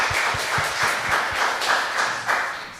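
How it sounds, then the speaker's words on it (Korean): A church congregation at a Sunday service claps to welcome a family about to sing, a moderate, fairly regular patter of hands repeating in an even rhythm with a soft room wash behind it. "우리 박수로 우리 받겠습니다"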